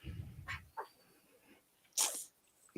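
A single sharp sneeze bursts out near the end, after a few soft snuffly breaths and a low rumble at the start; otherwise quiet.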